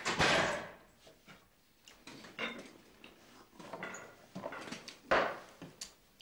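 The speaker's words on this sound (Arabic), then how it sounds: "سكري الباب شايفي." A household door is pushed shut amid scattered knocks and clatter, with several sharp, close thuds spaced irregularly over a quiet room.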